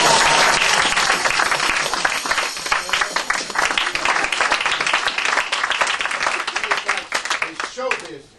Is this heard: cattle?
no